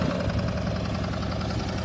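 A Dexheimer 222 tractor idles nearby, its engine giving a steady low, throbbing rumble with a rough, even pulse and no voices over it.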